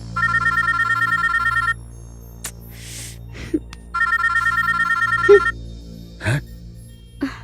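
A phone ringtone plays in two bursts with a gap between, while scattered short clicks and faint sounds occur around it.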